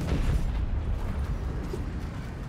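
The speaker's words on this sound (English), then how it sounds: "I'm sort of getting the hang for aiming the cannon." A cannon fires in the video game Fortnite, producing a loud, deep booming blast that rolls into a sustained low rumble over a couple of seconds, with no voices on top.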